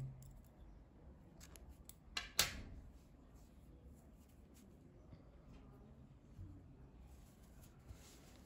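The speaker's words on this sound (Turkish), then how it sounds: "Beyaz rengi ipliği kesiyorum." White yarn is snipped with scissors during crochet work, one sharp metallic cut standing out clearly near the middle against a quiet room background, with no speech.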